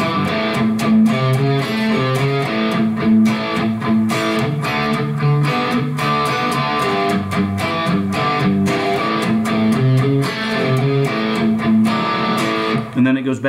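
An electric guitar, likely with distortion, plays the intro and verse riff of a song in a steady, driving rhythm of chunky chords and accented strums, loud and continuous for over ten seconds.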